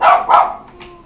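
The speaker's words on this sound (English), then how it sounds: "What are you barking at?" A dog barks twice in quick succession, loud and close, followed by a fainter yip, with no talking over it.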